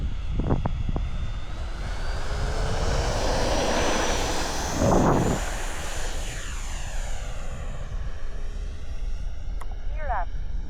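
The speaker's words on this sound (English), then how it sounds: "This jet definitely has a different response on takeoff" An Eflite F-16 Thunderbirds V2 70mm ducted-fan RC jet takes off from a new east-west runway. A loud, steady turbine-like whine rises and sweeps in pitch as it climbs away, with wind buffeting and a few brief knocks.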